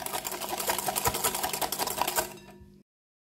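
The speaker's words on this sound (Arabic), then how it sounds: "غادي نخلط السكر مع البيض حتى كيذوب معايا السكر" An electric mixer beats sugar with eggs, giving a dense, rapid whirring rattle at close range that runs steadily for a few seconds and then cuts off.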